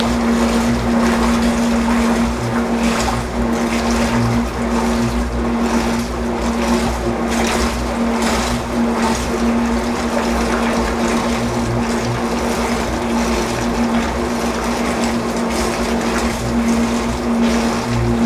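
A sugar syrup mixer stirs water and sugar with a constant motor hum and a whirring, churning wash that stays loud and even throughout.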